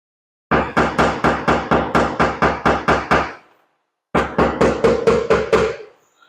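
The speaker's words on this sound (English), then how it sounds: "I'm trying to tap on the ridges around the dents to help." A hammer tapping on the ridges around dents in a Lincoln MKX fender, rendered as two loud, close runs of evenly spaced metallic blows, about eleven then eight, separated by a short pause.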